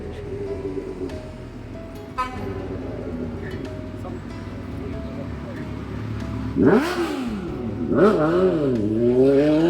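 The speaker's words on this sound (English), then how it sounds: "Always one loud motorcycle, no matter where you are." A loud motorcycle engine revs and roars past nearby on a New York City street, rising and falling in pitch, with people talking quietly underneath and street noise around.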